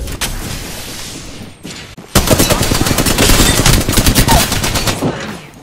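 Automatic gunfire from Apex Legends, rapid bursts of shots with a brief lull before a sustained, loud volley of evenly spaced rounds.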